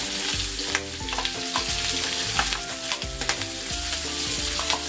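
Corned beef, potato and onion fry on high heat in a pan, crackling loudly and steadily, with frequent metallic scrapes and taps of a utensil stirring close by.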